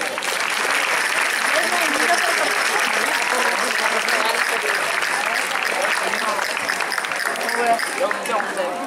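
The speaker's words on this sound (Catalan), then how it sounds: "un aplaudiment." Sustained audience applause at a community gathering in Sant Jaume d'Enveja, a dense, steady wash of clapping lasting throughout, with some crowd noise mixed in.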